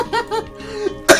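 Hard coughing fit right after laughter: a few short laugh bursts, then a loud, harsh, close cough near the end.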